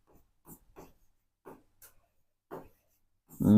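Short, close scratchy strokes of a pen writing on paper during a Class 10 maths lesson, arriving in separate bursts with pauses between them before a voice starts speaking at the end.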